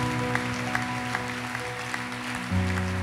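Congregation applauding at a French-language morning prayer service, steady rhythmic clapping with a few sharper claps, sustained over a droning musical backing.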